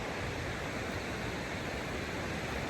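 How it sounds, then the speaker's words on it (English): Vista Creek flows near a trailside campsite on the Pacific Crest Trail, a steady, even rushing wash of water that fills the scene at a moderate distance with no voices. "near Vista Creek, which is the creek that you hear"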